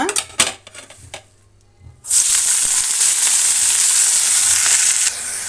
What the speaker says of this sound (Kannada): ಕೊತ್ತಂಬರಿ ಸೊಪ್ಪು ಇಷ್ಟು ಮೆಂತ್ಯ ಸೊಪ್ಪು ಇಷ್ಟು ಪುದೀನ ಸೊಪ್ಪು ಇಷ್ಟು ಒಂದು ಹತ್ತು ಹಸಿಮೆಣಸಿನ್ಕಾಯಿ ಇಷ್ಟನ್ನು ನಾವು ಫ್ರೈ ಮಾಡ್ಕೊಳ್ಳೋಣ